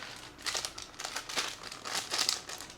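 Close crinkling of a plastic bag as toy Nendoroid figures are packed, with continuous rustling and crackling that swells in several bursts over a few seconds.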